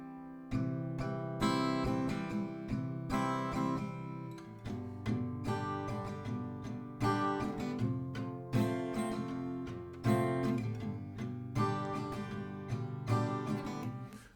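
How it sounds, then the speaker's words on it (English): Acoustic guitar strummed through the intro of a song, with rhythmic chord strokes that lean on the bass strings first, then brighter down-down-up strokes, played close and clear with no talking. "notice when I'm strumming, I play more on the bass on the first 2 downs"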